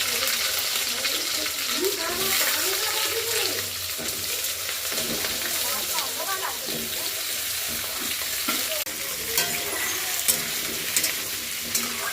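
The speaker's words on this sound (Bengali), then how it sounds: "এবার আলু আর কোয়াশটা একটু হালকা করে ভেজে নেব।" Potato and squash fry in hot oil tempered with cumin seeds, a steady broad sizzle with occasional stirring scrapes, close and continuous throughout, with faint voice-like sounds in the background.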